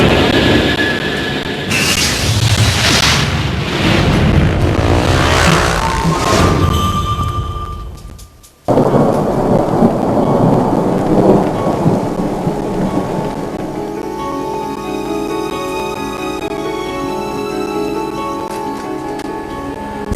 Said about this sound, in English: Thunderstorms were expected on the day's stage, but they fell early.